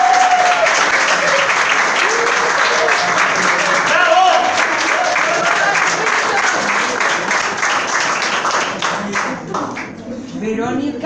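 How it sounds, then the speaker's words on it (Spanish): Guests at a civil registry wedding ceremony applaud the groom, sustained loud clapping from a small crowd filling the room before tapering off, with brief voices under the applause. "Un aplauso para él."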